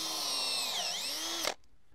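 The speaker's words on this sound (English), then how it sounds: "The bit can be used with a regular drill motor." A power drill whines steadily as it bores into a wood log for mushroom plugs, pitch dipping briefly under load, then cuts off abruptly near the end.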